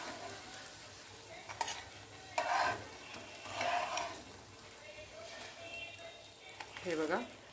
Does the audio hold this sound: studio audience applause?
no